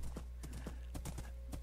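Minecraft horse hooves clip-clopping in a steady run of several quick, moderately close steps over a constant low background hum, with no voices.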